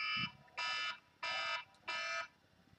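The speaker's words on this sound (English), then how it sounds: "And the timer's going off." A timer alarm beeps four times in a steady rhythm, each a loud, bright electronic tone lasting about a third of a second, close and clear with no talk over it.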